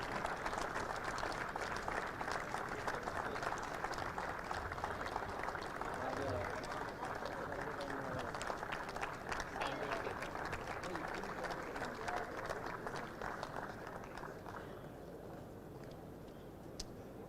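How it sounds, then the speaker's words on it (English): Spectators applaud at the Mumbai Open WTA125 women's tennis tournament, a long, dense round of clapping from a distant crowd that gradually fades toward the end. "I'm sure this is a bit of a round of applause moment"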